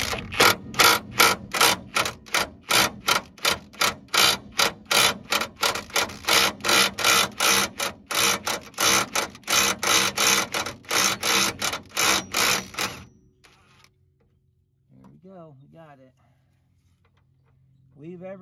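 Rapid, rhythmic ratchet clicks from a wrench loosening a rusty radius arm bushing nut on a vehicle, loud and close, running for about thirteen seconds before stopping, followed by a brief spoken comment.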